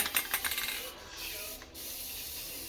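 A spray paint can, used while painting a roof access channel, gives short hissing bursts and then a steady faint hiss as the can empties, with a couple of brief pauses.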